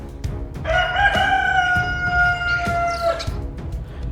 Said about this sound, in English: if you heard that rooster crow